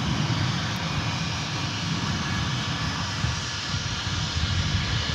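Airplane landing at DFW Airport, a steady broadband engine roar held at constant loudness throughout, near and continuous with no talk over it.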